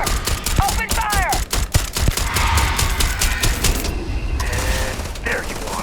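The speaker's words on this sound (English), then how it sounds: "Open fire!" Rapid sci-fi gunfire from the video game Starfield, loud bursts of shots in quick succession with sharp impacts and whizzing effects, then a steadier rumble of combat ambience.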